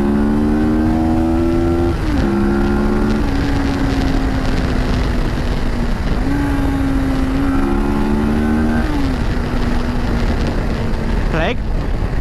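A 2020 CFMoto 650GT sports-tourer motorcycle accelerates hard, its engine note climbing and dropping at each gear shift several times, loud and steady throughout with a rider speaking over it.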